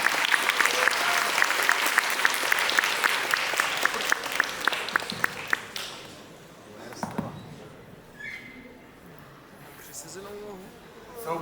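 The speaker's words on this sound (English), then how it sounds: "please join me on a round of applause" Audience applause at a panel talk on fighting Russian authoritarianism, loud dense clapping for about six seconds, then fading into scattered claps and murmuring voices.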